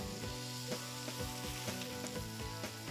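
Bacon-wrapped albacore tuna sizzles directly over a wood fire on an Arteflame grill, a steady close crackling hiss with scattered pops and a low background hum, no voices.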